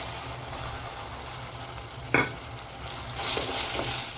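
Blended tomato purée frying in a pan, a soft continuous sizzle close by with a sharp spoon clink and a few stirring scrapes, no voices.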